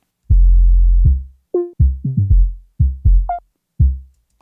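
A dry pattern of deep, booming electronic kick drum hits, some long and sustained, others short, with pitch-shifted notes in an uneven rhythm.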